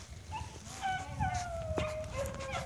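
Distant dog bays and yips faintly across an open field while running a cottontail rabbit in Missouri, a thin drawn-out cry rising over steady outdoor background noise, with no talk.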